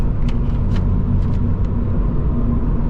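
A 2023 Subaru BRZ's 2.4-litre boxer engine rumbles steadily from inside the moving car, a loud, constant low drone with brief higher whooshes layered over it.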